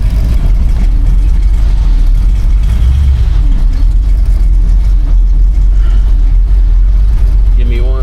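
1972 Ford Mustang engine running with a deep, rumbling idle and throaty low-end burble, close and loud, while people talk over it.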